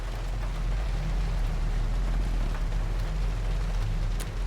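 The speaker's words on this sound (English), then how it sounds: "It is raining." Steady rain falls in the video game Road 96, a dense, even hiss that continues without a break from start to finish, with no voices.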